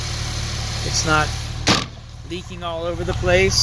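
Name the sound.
car engine idling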